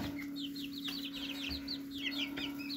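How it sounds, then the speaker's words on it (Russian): Chicks or hens peep and cluck in quick high chirps over a steady low electrical hum, fairly faint and continuous. "Живут курочки."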